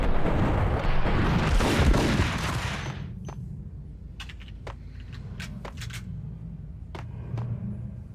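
A grenade goes off in the Max Payne video game, a loud broad blast with a rumbling tail that fades over a few seconds, then scattered sharp gunshot-like cracks ring out in the quieter aftermath.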